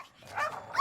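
Cartoon dogs give short yappy barks and whimpers, a quick cluster of bright animated yips lasting under a second with nothing else heard.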